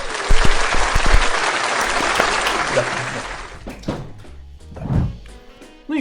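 Loud standing-ovation applause, a dense wash of clapping for several seconds that thins out and fades, leaving a few scattered thumps and brief voices.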